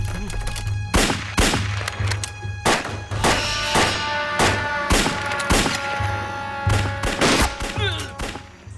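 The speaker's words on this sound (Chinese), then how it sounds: "听枪声是猴子的，应该是有人来了" Repeated gunshots in a TV war drama, a rapid fusillade of sharp loud cracks with irregular spacing over several seconds, close and prominent with echoing tails.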